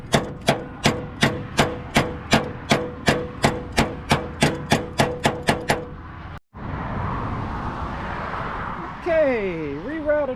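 Repeated metal-on-metal hammering with an all-in-one wrench flattening a mangled screw hole on a 1978 Mercury: about fifteen sharp, evenly spaced loud strikes, then a pause followed by rustling and scraping.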